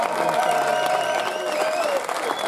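Audience applause at a Strážnice folk festival preliminary round awards ceremony, honouring a cimbalom band: steady, dense clapping from a crowd, fairly close and continuous throughout with a bright, sustained tone carried over it.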